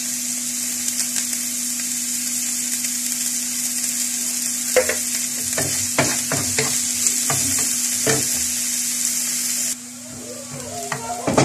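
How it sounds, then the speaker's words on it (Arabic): Onion frying in a pan with a loud, steady hiss, while a utensil scrapes and clatters through it in bursts of stirring; the sizzle drops off sharply near the end. "وغادي ندير البصله تشحر شويه"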